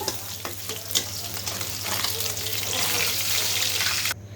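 Rohu fish sizzling and spattering in hot oil in a village kitchen, a steady close crackle with occasional stirring clatter, ending abruptly.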